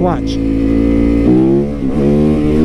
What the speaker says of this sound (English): I'm just gonna rip the throttle on this